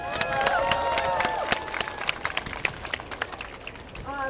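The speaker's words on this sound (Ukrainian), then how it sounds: "Я хочу, щоб ми зустріли Наталю зараз оплесками" A crowd at an animal rights march in Kyiv applauds and cheers to welcome a speaker, with dense clapping and voices mixed in, settling into scattered individual claps toward the end.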